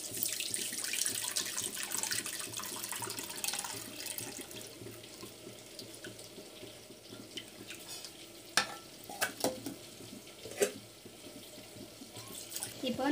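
Tamarind water mixed with salt is poured into a vessel while making a village-pond fish curry, giving a steady watery splashing with some stirring, and a couple of sharper clinks near the end.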